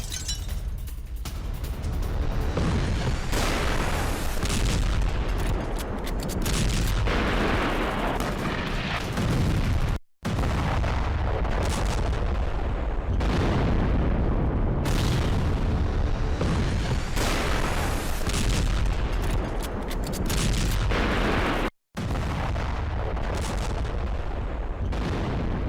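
Israeli bombing of military sites in Damascus rolls on as a dense barrage of loud booms and blasts, heavy and continuous, split into three stretches by short breaks.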